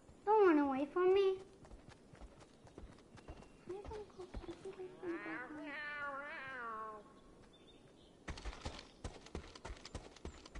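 Meowsis the cat gives a few loud, wavering meows near the start and a longer plaintive crying meow midway, with a person talking around the cries.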